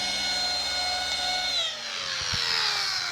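Power polisher buffing scratches out of car windscreen glass, a loud, steady high whine that drops briefly in pitch under load, then picks up again, with no talk.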